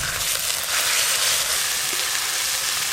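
Whole cumin, bay leaf, dried chili, chopped onion and ginger-garlic paste fry in hot oil for a Bengali yogurt egg curry, giving a steady, close, loud sizzle and crackle that holds for the whole stretch with no talking.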